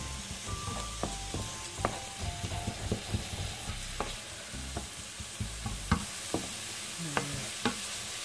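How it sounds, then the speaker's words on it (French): Onions frying in oil in a skillet, heard as a continuous close sizzle with frequent light taps and clicks of stirring scattered throughout, no talking. "dans la poêle j'ai mis les oignons, l'huile et les oignons"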